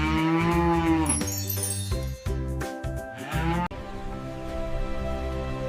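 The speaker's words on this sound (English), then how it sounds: "It's a cow." A cow heard on a zoo tour moos loudly and close, several long, deep lowing calls running back to back with shifting pitch and no voices over them.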